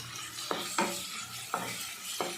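Egg rice ingredients fry in a pan with onions, a soft background sizzle broken by four distinct spatula stirs and scrapes, quiet and close.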